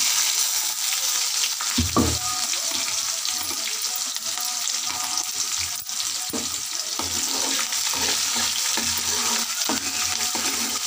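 Chopped onions and green chillies hitting hot tempering oil, a strong continuous sizzle with a sharp burst as they drop in, followed by intermittent scraping stirs, no talking.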